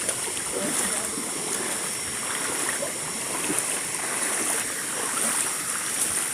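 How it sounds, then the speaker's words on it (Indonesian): A hidden waterfall in a Malaysian forest sends up a continuous rushing, splashing roar of falling water, with voices faintly audible beneath it. "Air terjun, air terjun."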